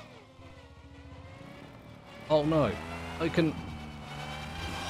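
Car engine in the driving game Screw Drivers drones steadily in the background, its pitch sliding and wavering with brief louder swells, while a person talks over it.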